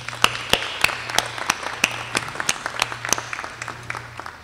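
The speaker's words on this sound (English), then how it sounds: "Let's give them a round of applause." Scattered audience applause at the North Arkansas College 2020 commencement, distinct individual claps rather than a dense roar, fairly near and moderately loud throughout.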